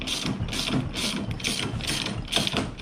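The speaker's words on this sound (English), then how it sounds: "we have to get that nut off. That's a 17 millimeter socket" Ratchet with a 17 mm socket loosening a nut, with five or six loud, close bursts of ratcheting clicks in a steady back-and-forth rhythm and no talking.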